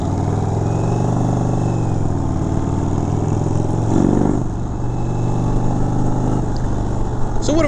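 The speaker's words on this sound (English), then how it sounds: "this big old bagger does just fine in these corners right here" A 2019 Indian Chieftain Darkhorse bagger with a 116 big-bore engine rumbles steadily through corners, a loud continuous engine drone with slight throttle shifts, a voice talking over it.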